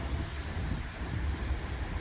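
A ten-coach Class 377 electric train rolls into a station with a steady low rumble and faint rail clatter, sounding fairly close and continuous.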